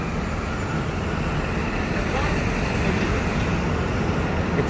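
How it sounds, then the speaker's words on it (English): Morning car traffic in Times Square, New York, makes a steady, broad roadway rumble with engine hum and no distinct passing vehicles, continuous throughout. "It's empty. A lot of cars, but it's very quiet."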